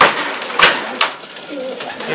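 A racing pigeon coos close by in a loft, soft throaty calls with a few sharper bursts and low murmuring under light background noise.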